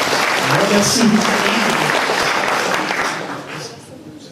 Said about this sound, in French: Vous pouvez pas m'applaudir à la fin de mes phrases,